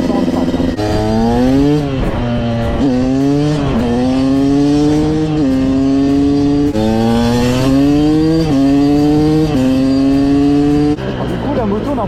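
A KTM 200 EXC two-stroke supermoto motorcycle rides close by, its engine rising and falling in repeated revving pulls through the gears, loud and buzzy throughout with a steady underlying vibration.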